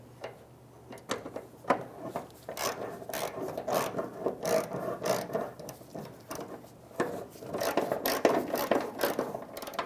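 Bolts are threaded in by hand on the fuel tank of a 2012-2017 Toyota Camry, giving close, uneven ratcheting clicks and gritty scraping, with metallic rattles and no talk.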